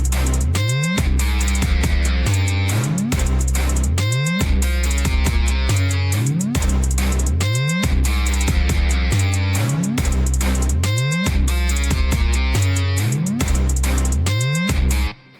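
Dense metalstep production with punchy electronic stabs hitting on the beat alongside heavy bass drops and drums, loud and driving in a repeating rhythmic pattern for about fifteen seconds before cutting off.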